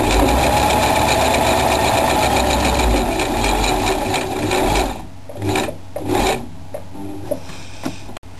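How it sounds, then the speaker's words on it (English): A sewing machine runs steadily while stitching a fabric messenger bag, loud and close, then stops and gives way to scattered handling clicks and fabric rustle. "most sewing machines, you won't be able to move it, ease it around if you don't lift the foot up"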